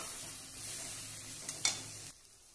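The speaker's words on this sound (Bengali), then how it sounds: "ভালো করে মশলাগুলো কষিয়ে নিচ্ছি" Spice paste with green chilli and ground onion being stir-fried for a kuche fish dish, a steady close sizzle with a few sharp spatula scrapes near the end before it cuts off.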